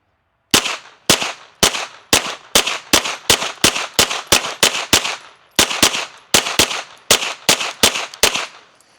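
Pistol firing handloaded rounds with Fiocchi small pistol primers, about twenty sharp, loud shots in a rapid, fairly even string with a brief pause midway, each crack followed by a short decaying tail.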